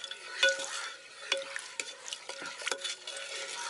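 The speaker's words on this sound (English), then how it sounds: "I'm going to stir this up really well." Spoon stirring chicken with apple cider vinegar in an electric pressure cooker, a series of soft scraping and wet clinking strokes at close range, irregular and moderately quiet, with no talking.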